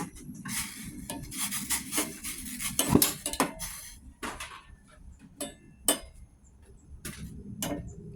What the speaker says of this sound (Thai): เอากุ้งลงไปลวกไม่ต้องสุกมากนะคะ